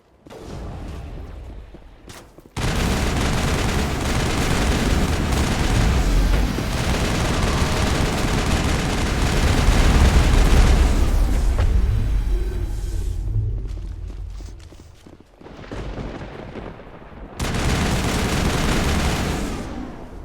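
Heavy gunfire booms from a large emplaced gun in Mass Effect, a dense, loud barrage of blasts and rumbling impacts that runs nearly continuously, dropping out briefly twice before resuming.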